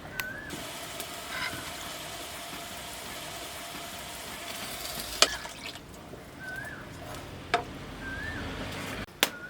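Masala paste for a modha fish curry sautéing in a pan, a steady low sizzle with occasional sharp clinks of the spoon against the pan.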